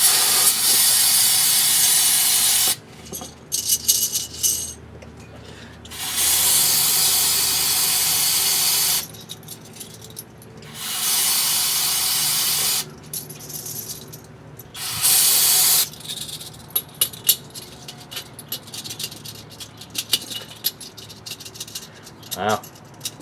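Brake cleaner sprayed in several long hissing bursts onto a rear axle part of a 2008 Chevy Suburban during a rebuild, close and loud, separated by quieter gaps with clinking and faint shop noise.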